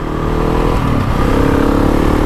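A GasGas ES 700 motorcycle engine revs hard and loud up close, with a brief dip as it quick-shifts gears before pulling strongly again.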